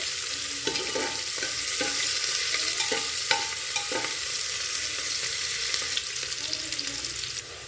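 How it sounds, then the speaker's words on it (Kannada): Chopped onions fry in a pan for an oyster mushroom dish, a constant loud sizzle punctuated by repeated rhythmic scrapes of a spatula stirring, close up with no talking. "ಈಗ ಇದಕ್ಕೆ ಹೆಚ್ಚಿರುವಂತಹ ಉಳ್ಳಾಗಡ್ಡಿ ಹಾಕೊಳ್ಳೋಣ. ಒಂದೆರಡು ನಿಮಿಷ ಫ್ರೈ ಮಾಡಿಕೊಳ್ಳಿ."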